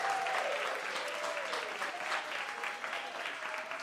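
Applause for the Joe's Pub staff from a theater audience at a Public Works performance, a full, steady patter of clapping heard from a middle distance with faint voices beneath.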